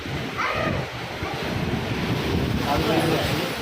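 Seawater surges into a seaside cave temple at Diu, making a steady, loud wash of surf with wind blowing across the microphone throughout.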